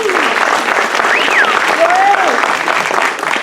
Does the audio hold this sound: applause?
yes